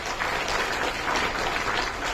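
A crowd at the Haryana Taekwondo Pride Awards 2025 applauds to welcome guests, a dense, continuous wash of clapping holding steady throughout with no voices standing out.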